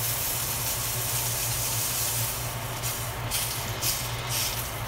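Steak fat sizzling and rendering down in a hot pan, a steady broadband hiss with faint crackles running continuously and close, no talking.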